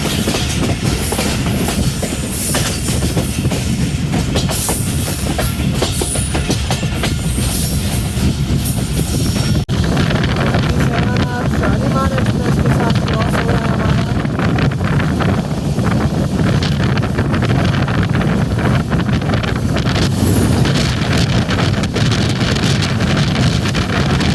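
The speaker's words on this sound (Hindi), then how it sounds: "टंडो आदम रेलवे स्टेशन से हमारी ट्रेन निकल रही है।" The Sir Syed Express pulls out of Tando Adam railway station. Loud rumbling of the wheels and the clatter of the carriages go on without a break, with heavy wind buffeting close to the microphone the whole way through.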